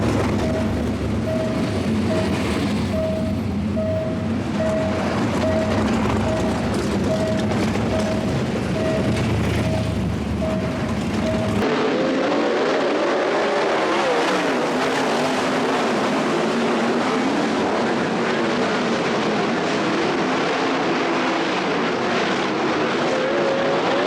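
Sprint cars in a heat race at Warrnambool during the Australian Sprint Car Championship roar continuously at full throttle, a loud, dense engine howl rising and falling as the pack circles the track, with no voices.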